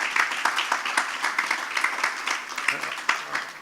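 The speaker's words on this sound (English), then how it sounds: "Please give him a big round of applause and welcome him to Jamaica." Audience applause welcoming a World Bank vice president on stage at a disaster risk financing forum in Jamaica, steady clapping of a sizable crowd with some voices mixed in, moderately loud and continuous throughout.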